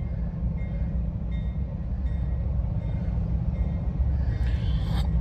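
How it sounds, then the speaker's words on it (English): A train rumbles past in a heavy, continuous low roar with rattling wagons, loud and close throughout, with a brief higher squeal near the end. "The train is coming."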